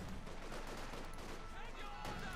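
Gunfire from a Company of Heroes 2 skirmish between Soviet and German OKW forces, dense overlapping shots and bursts forming a continuous low rumble, fairly faint and without clear gaps.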